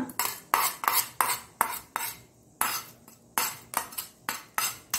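A metal spoon scrapes and clinks against a pan as prepared masala is added to a dosa batter for Mangalore-style dedhir dosa, with about a dozen quick, close, rhythmic strokes and no talk.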